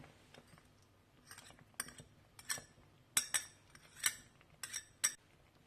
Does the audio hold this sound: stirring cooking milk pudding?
yes